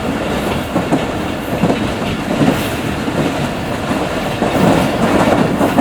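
Karachi Express passenger train running on rails into a city, a steady loud rumble with continuous clickety-clack of wheels over rail joints, close and unbroken throughout.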